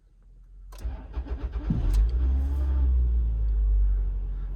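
A Toyota Estima starts on the first try: a short cranking burst, then the engine catches and settles into a steady low idle rumble, close by with no talk over it.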